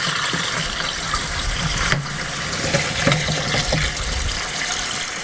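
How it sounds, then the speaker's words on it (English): Water from a garden hose pouring into a bucket during a CAT C18 engine flush, a steady loud rushing and splashing flow with a brief bump partway through, no voices. "Now we take a water hose, and we put it in the bucket and turn it on."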